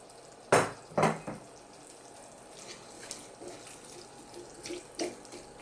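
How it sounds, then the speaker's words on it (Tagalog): Water pours from a tap into a pan of sautéed green papaya, two quick close splashes followed by light stirring, clinks and a soft simmering hiss in a home kitchen. "Mag-a-add pa tayo ng konting tubig."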